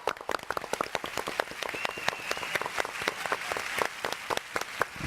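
Scattered hand claps and cheering in a Brazilian football-watching setting with a Palmeiras match on, sharp irregular claps standing out over a busy room murmur.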